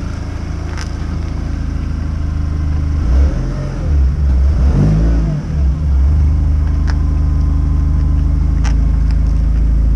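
A car engine runs at a steady low drone, then revs hard in a couple of rising, sweeping bursts mid-clip before returning to a constant loud rumble.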